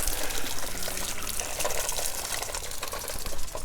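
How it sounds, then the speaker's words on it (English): Water gushes steadily from a farm line into small quail drinking cups, a continuous close splashing flow with no talk. "that is feeding all my little water cups"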